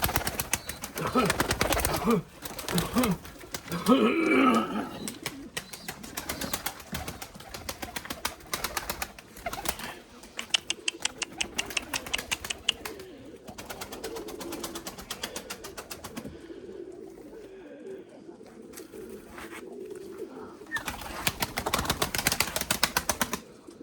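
Limoni breeding pigeons in a loft, with soft cooing and some wing flutters and shuffling, heard under someone talking at length nearby.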